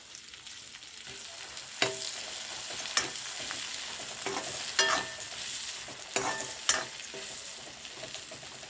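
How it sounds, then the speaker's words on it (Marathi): Onions frying in hot oil for an egg biryani, sizzling steadily while a spoon stirs and scrapes the pan in sharp, irregular knocks every second or so, close and clear with no talk. "कांदा पूर्ण तळून घ्यायचा आहे"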